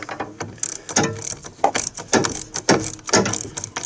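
A hand wrench works a 10 mm bolt on a truck battery terminal, giving a series of close, sharp ratcheting clicks and metallic clatters in quick irregular bursts, with no talking.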